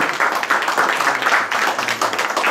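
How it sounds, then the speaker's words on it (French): Audience clapping steadily at an award ceremony in a Lyon restaurant, a dense continuous patter of many hands, fairly loud with no voices standing out. "On peut l'applaudir bien fort"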